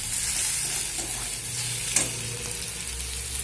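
Vegetables with sugar added for chira pulao fry and get stirred in a pan, giving a close, steady sizzle with a brief clack of the spoon near the middle.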